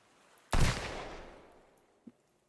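A single pistol shot in the survival game Sunkenland, a sharp loud crack that rings out and decays over about a second and a half, followed by a faint short click.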